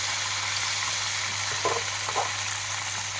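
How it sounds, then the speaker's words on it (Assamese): Local river fish frying in hot oil gives a steady, close sizzle throughout, with a constant low hum beneath and a couple of brief louder spatters. "পুৰা তেল গৰমত ধুনীয়াকৈ ভাজি আছোঁ পুৰা নদী মাছ।"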